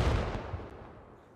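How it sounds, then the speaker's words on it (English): A grenade bursts in the SquadOps shooter, a single heavy boom that hits at once and fades into a rumbling tail, close and loud with nothing else over it. "a grenade."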